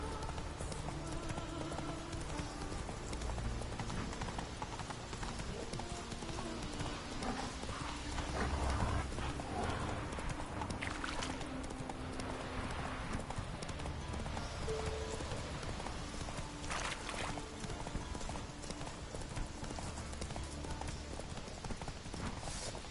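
Roach the horse in The Witcher 3 gallops with a steady, continuous clip-clop of hooves, moderately loud throughout over a dense layer of in-game ambience and rumble.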